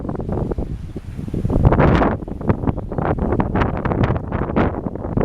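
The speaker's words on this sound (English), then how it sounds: "It's windy out here." Gusty wind buffets the microphone on the Maui coast at sunset over the Pacific Ocean, a loud, rough rumble that surges and dips continuously.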